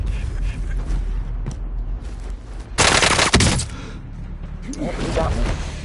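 Call of Duty Warzone battle royale gameplay: a loud burst of machine gun fire erupts mid-clip among scattered game sounds, with players talking around it.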